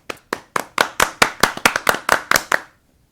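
A class of young pupils clapping in a fast rhythmic pattern, about a dozen crisp claps over roughly two and a half seconds, close and loud, then stopping abruptly.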